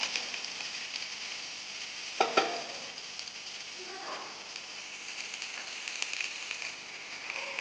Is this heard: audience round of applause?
no